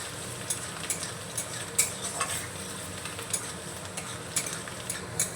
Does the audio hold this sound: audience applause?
no